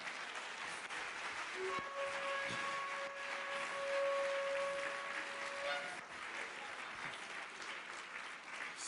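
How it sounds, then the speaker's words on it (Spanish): Church congregation applauding together for several seconds, a steady broad wash of clapping with sustained tonal hum and a faint bright tone running through it, no speech over it. "Un aplauso al Señor."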